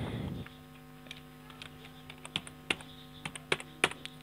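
Keys clatter as someone types on a computer keyboard, with sparse, irregular clicks that grow denser toward the end over a steady electrical hum and no speech.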